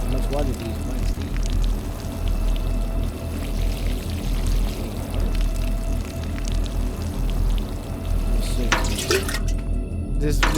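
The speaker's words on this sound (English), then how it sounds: "go ahead and water our plants" Water pours steadily onto potted plants indoors, a continuous gurgling splash running throughout, with voices talking over it and a brief clatter near the end.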